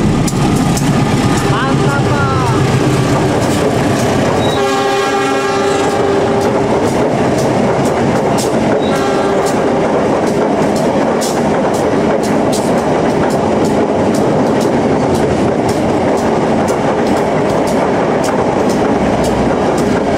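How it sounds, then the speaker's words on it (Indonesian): A Lodaya passenger train rushes past at speed in Bandung, Indonesia, a steady loud roar with rhythmic clickety-clack of wheels on rails and a horn blast partway through. "Kereta api Lodaya 734 melintas langsung."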